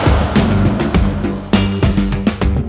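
A Jaguar E-Type engine runs up close and loud, revving in rhythmic surges with sharp bursts and a deep, throaty tone throughout.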